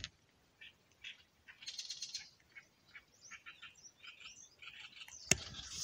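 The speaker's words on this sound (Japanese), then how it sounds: "鳥の声聞こえるかな？" Birds chirp and call outdoors in the early morning near a bridge, with scattered short tweets and brief song phrases at moderate distance, quiet overall, ending with a sharp close click.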